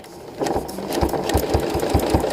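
Domestic sewing machine stitching a quilt along templates, starting up after a moment and then running with a fast steady mechanical chatter, loud and close with no talk.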